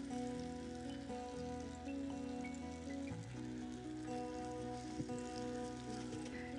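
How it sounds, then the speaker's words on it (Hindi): Golden bags, stuffed dough parcels, frying in hot oil with a steady crackling sizzle and fine popping that runs evenly throughout, close and fairly loud, with no talking. "बहुत जल्दी गरम तेल के अंदर इसे फ्राई करना है"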